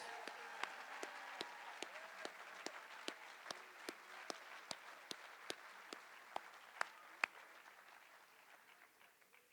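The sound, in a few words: applause for senior athletes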